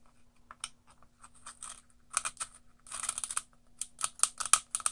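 A pencil turned in a homemade travel pencil sharpener gives rapid, dry scraping and crisp clicks in uneven bursts, growing busier and louder toward the end, close up with no talking.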